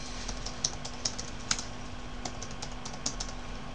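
Someone types a username on a computer keyboard, a run of quiet, close key clicks with a few sharper taps standing out.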